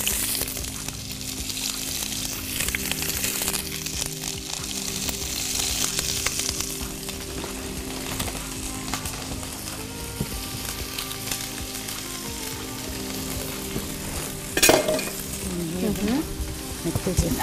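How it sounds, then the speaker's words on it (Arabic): Chopped onion frying in a pan for a spicy Tripoli-style fish dish, a steady broad sizzle running throughout with occasional stirring scrapes and a sharper clatter near the end, close and moderately loud. "نبتدي نقلب البصل بتاعنا"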